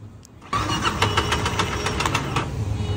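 A damaged motorcycle engine cranks, catches after a brief pause and settles into a loud, rough, mechanical running sound close by.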